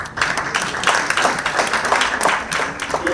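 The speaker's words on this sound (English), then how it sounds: "Let us kindly give him an organized clap." Applause at a strategy launch event: many hands clapping in a continuous, fairly even patter, moderately loud, with no speech over it.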